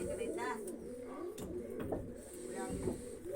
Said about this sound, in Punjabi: ਇਹਦੇ ਵਿੱਚ ਇੱਕ ਕਬੂਤਰੀ ਆ ਰਹੀ ਆ